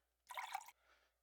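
Water pouring into a bucket in the video game Haven and Hearth, a short faint splash of filling lasting under half a second, then a softer fading trickle, alone and quiet.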